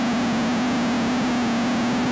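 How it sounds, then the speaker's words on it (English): Screech output of a Hexinverter VCNO voltage-controlled noise oscillator set to a fixed pitch, a dense hissing noise carrying one steady pitched whine throughout, loud and unbroken, with no voices. "we're hearing the screech output now"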